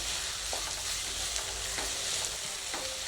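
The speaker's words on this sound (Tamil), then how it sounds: "தக்காளி வந்து வதங்கிட்டுருக்கு, நல்லா ஓரளவுக்கு வதங்கிடுச்சு." Tomatoes sauté in a pan for spicy peanut chutney, an even close sizzle with a few sharp utensil scrapes and taps spaced through the short stretch and no voices.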